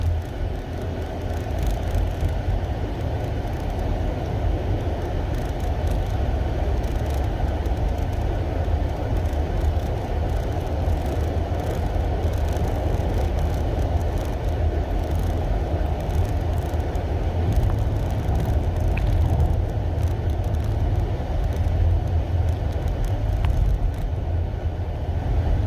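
A second-generation Nissan LEAF electric car pulls away and drives on, giving a steady, even rumble of road and cabin noise with no engine note and no pauses.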